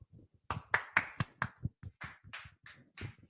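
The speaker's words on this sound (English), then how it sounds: "Let's clap it up." A small group claps at a Sabbath service in Durham, North Carolina, with a short run of sharp, fairly close hand claps in an uneven rhythm that dies away after a few seconds.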